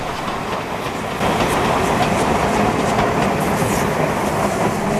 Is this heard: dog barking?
no